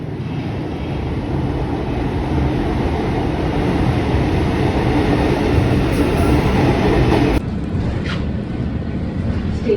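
A metro train runs with a loud, continuous rumble and rattle of wheels on rails, heard from on board or close by; the roar holds steady throughout and shifts slightly toward the end, with no voices.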